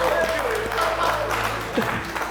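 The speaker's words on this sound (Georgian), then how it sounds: "აპლოდისმენტები, მეგობრებო." An audience claps at a student book-club competition show, a dense patter of applause heard beneath a speaking voice.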